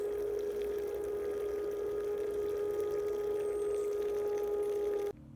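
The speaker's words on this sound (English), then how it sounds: "And you can see the soapy water running through it and hopefully cleaning this out a bit." A Tsunami T-1200 ballast pump for a wakeboat runs submerged in a bucket of soapy water, giving a steady whining hum with a constant tone that cuts off abruptly near the end.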